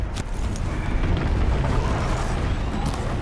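Grenade explosions in Horizon Zero Dawn, blasts of a game weapon striking a large machine, heard as a sustained, dense roar of rumbling bursts with a few sharper pops, loud and continuous throughout without any talk.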